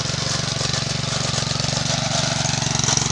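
A Hatari engine-powered machine used for splitting porang tubers runs steadily nearby: a loud, even, throbbing engine drone with a fast regular pulse and no break.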